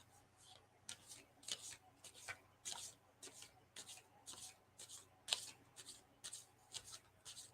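Playing cards are shuffled repeatedly in quick riffles, a steady rhythm of crisp flutters, close and fairly quiet.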